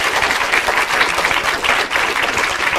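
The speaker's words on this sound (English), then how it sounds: "So I think they deserve a big round of applause." Loud, close applause from an audience for the speakers at the end of a talk on Ebola's effects on women and children, a dense steady clatter of many hands throughout.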